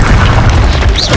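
The Incendio fire spell in the video game Hogwarts Legacy lets out a loud, dense, roaring blast that fills the whole moment with rumbling, fiery noise.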